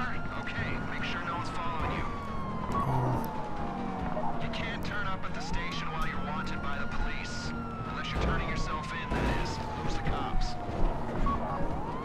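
Police sirens wail and sweep in a long chase behind a speeding car in the GTA video game, with engine noise and skids throughout and someone talking over the din.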